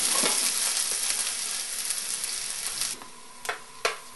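Diced onion sizzles steadily in hot oil in a pan, with a few sharper scrapes and clinks from stirring near the end, close and unaccompanied by voices.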